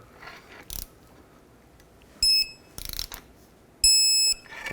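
A click-type torque wrench tightens a ball joint bolt on a 2001-2007 Volvo V70, with several bursts of ratcheting clicks, then two sharp electronic beeping tones from the wrench signalling the set torque, close up and clear.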